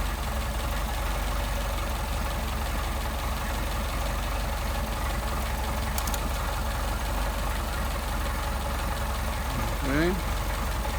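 A Mercedes 190SL engine fitted with Solex carburetors idles steadily at a low, even 600 rpm, a continuous rumble throughout with a brief faint voice near the end.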